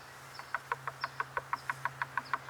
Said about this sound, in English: he was startled by a knock on the door.